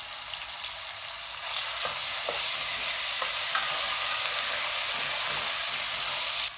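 Ginger-garlic paste sizzling steadily in hot oil, a continuous bright crackling hiss with occasional stirring clicks, close and even throughout.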